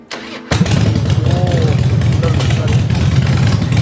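A motorcycle engine starts abruptly and settles into a loud, steady running rumble up close, with a person's voice faintly present underneath.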